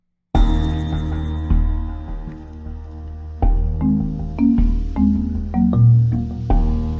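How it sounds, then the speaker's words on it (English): Low marimba line tucked into the B section of a music cue, sounding as a run of plucky mallet notes in an irregular rhythm over sustained backing, clear and forward with no talking. "there's a marimba line that I've hidden in my B"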